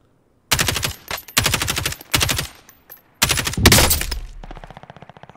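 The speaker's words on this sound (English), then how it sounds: "I'm shooting at people at bio." Rapid automatic gunfire in a shooter video game, several loud sharp bursts separated by short pauses, then a longer ragged volley that trails off into lighter clatter.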